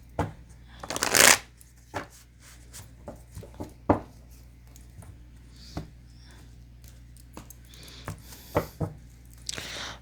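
A deck of tarot cards is shuffled by hand, giving a sharp riffling burst early on followed by scattered soft slaps, flicks and card taps at close range, with a faint low hum beneath.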